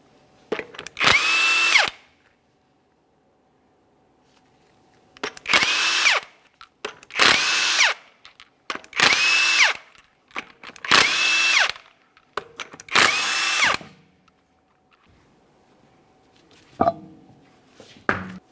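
On a 2017–2023 GMC Acadia, a power tool zips off the six 22mm lug nuts from a front wheel. Six loud, close bursts of rattling whir each last about a second, separated by short silences.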